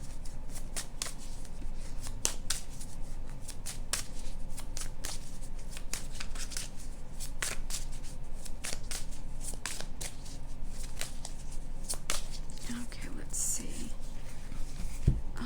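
A chakra oracle card deck is shuffled in repeated quick riffling bursts, close and fairly loud, with papery flicks and soft taps running steadily throughout.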